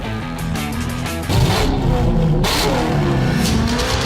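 A Maserati MC20-style supercar with a mid-engined 8.3-litre V8 producing 789 brake horsepower at Goodwood idles and then revs sharply, its engine note rising loud and close with further throttle blips.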